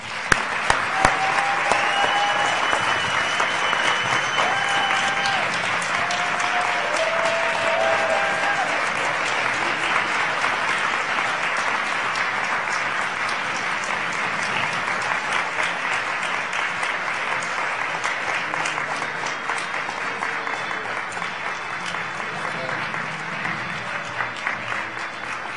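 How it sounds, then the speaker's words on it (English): Sustained applause from an audience at a PhD Project graduation ceremony and conference closing, a dense, steady wash of clapping that holds for the whole stretch with only a slight fade near the end. "Let's give them all a great round of applause."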